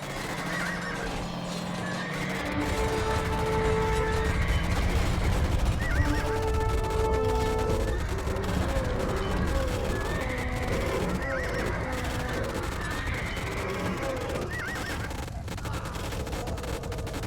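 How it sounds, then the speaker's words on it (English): Horses neigh and whinny in the Age of Empires II strategy game, several calls rising over a dense, steady mix of game sounds and music that runs throughout. "Fine-looking horses. They're no elephants, but they'll do."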